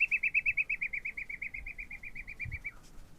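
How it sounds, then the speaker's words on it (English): A loud bird calls nearby with a rapid series of about twenty sharp, evenly spaced chirps in a descending trill that stops abruptly, with a faint thump near the end. "it was a really loud bird"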